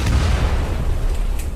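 A heavy explosion in a Doctor Who audio drama, a sustained low rumbling boom with dense crackling debris that fills the whole moment and slowly settles, with no voices over it.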